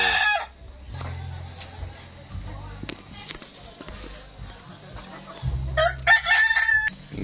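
Chickens and a rooster at a farm in Klaten, with loud crowing and scattered clucks close by, while people talk throughout.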